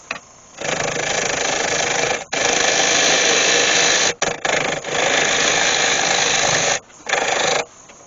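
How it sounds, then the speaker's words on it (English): Wood lathe spinning a spalted ash bowl while it is hollowed out, a loud continuous motor drone with gouge scraping, stopping briefly several times as the cut pauses and restarts. "I'll get back to hollowing."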